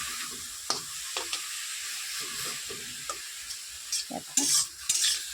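Bottle gourd leaves with salt frying over low heat in a pan, a soft steady sizzle under repeated scraping stirs and clinks of a spatula, close and unhurried.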